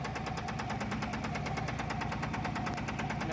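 A Mahindra Jeeto mini truck's steel engine runs steadily at close range, a loud, even mechanical rumble with a rapid repetitive knock that holds without pause and has no talk over it.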